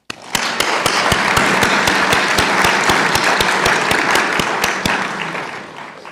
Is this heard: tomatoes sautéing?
no